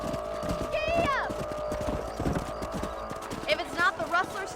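Horse hooves clip-clop at a steady trot in the Red Dead Redemption video game, close and rhythmic, with a brief whinny and a voice urging the horse on over the hoofbeats.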